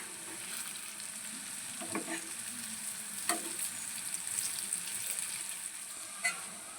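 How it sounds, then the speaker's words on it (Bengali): Jackfruit seed pieces fry in a pan over medium heat, giving a steady soft sizzle with a few louder stirring scrapes, close and alone with no talk. "ভালো করে এক পিঠ মিডিয়াম আজে ভেজে নিতে হবে নিচটা"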